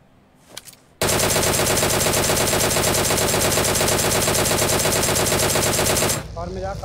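Sustained automatic gunfire in the mobile game PUBG Mobile, a loud, rapid, unbroken burst of shots lasting about five seconds after a quieter lead-in, then cutting off sharply with faint game sounds after.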